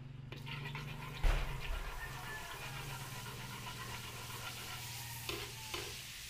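Oil and margarine heating in a pan for beef kaldereta, a steady low sizzle with a few louder clatters and stirring knocks, close and alone.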